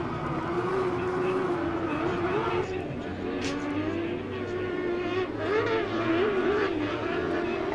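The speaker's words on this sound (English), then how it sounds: "Man, the difference in the sounds of all these cars out there." UTV race vehicles tear around a short course dirt track, engines droning and revving in overlapping waves as they pass at mid distance, with a commentator talking over the noise.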